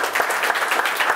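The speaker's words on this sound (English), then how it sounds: "give Yuli a round of applause" A small audience at a lightning-pitch session gives a short burst of steady clapping, moderately loud and close, with no talk over it.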